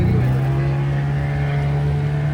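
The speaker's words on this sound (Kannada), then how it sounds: "ದೋಣಿ ತಿರುಗಿ ಹೋಗಿ ಶುರು ಈಗ" A motor boat engine drones steadily at close range, a strong low hum holding level throughout as the craft turns and pulls away.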